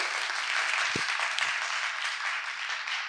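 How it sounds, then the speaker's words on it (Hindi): Audience clapping to welcome IAS officer Aditi Patel at a UPSC talk in Bundelkhand, a dense, even roar of applause from a large crowd, sustained at full strength throughout. "एक बार अच्छे से ताली बजा के हमारी अदिति मैम का बहुत अच्छे से स्वागत किया जाए"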